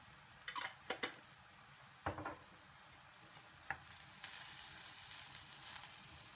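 Minced meat frying in a pan with sweet pepper paste, a soft steady sizzle broken by a few short clinks and stirring scrapes of a utensil against the pan, with the frying hiss swelling louder toward the end.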